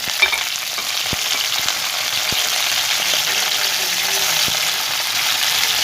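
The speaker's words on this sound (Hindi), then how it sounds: "मुझे इसका बघाड़ देना है। जो कड़ी पत्ता है, मेथी दाना है और ज़ीरा है।" Curry leaves, fenugreek seeds and cumin being tempered in hot oil in a wok, giving a steady close sizzle and crackle with occasional soft taps from stirring.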